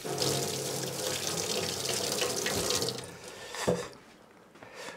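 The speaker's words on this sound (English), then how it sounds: "that mushroom is dirty, so I wash it." Running tap water splashing over a dirty mushroom in a kitchen sink, a steady close rush of water for about three seconds that then thins out into a few splashes and drips.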